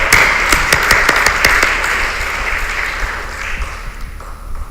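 Church congregation applauding together, a dense broadband wash of claps with a few sharper individual hand slaps standing out near the start, steady and fairly loud before tapering slightly toward the end, with no talking over it.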